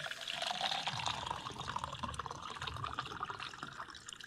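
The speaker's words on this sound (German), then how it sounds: "Das erste Einschenken ist das Schwierigste." Water pours into a container outdoors in a jungle survival setting, a steady, faint splashing and trickling stream with a gently shifting tone.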